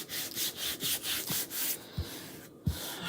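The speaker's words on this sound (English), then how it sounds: "Rub that down." A Chalk Couture transfer is rubbed down by hand in repeated back-and-forth strokes, close and fairly loud, a rhythmic dry scuffing with a couple of soft knocks toward the end and no speech.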